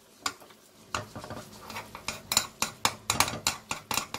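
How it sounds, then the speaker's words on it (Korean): Jjajang sauce stirred in a pan with noodle water added, a spoon clinking and scraping against the pan in a steady run of sharp knocks, close and fairly loud, with no one talking. "짜장이 절대로 들러붙지 않도록 계속 이렇게 면수를 넣으면서 저어줍니다."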